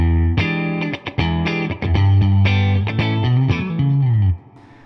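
Electric guitar strums a dominant 7 sharp 9 chord through a distorted, effected tone: a quick run of choppy stabs, then a ringing chord that fades out.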